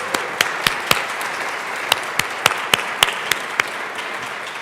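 Scattered applause in the Colorado House chamber, with sharp separate claps rising over a steady hum of clapping from a modest crowd, no voices.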